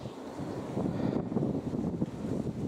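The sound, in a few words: wind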